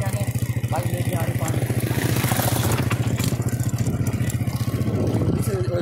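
Several motorcycles carrying water bottles approach on a village road, a steady, close puttering engine drone running throughout with rattling clatter on top.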